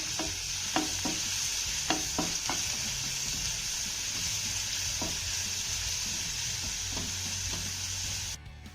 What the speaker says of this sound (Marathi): त्यानंतर हा लसूण आपल्याला हलक्या सोनेरी रंगावरती परतून घ्यायचा आहे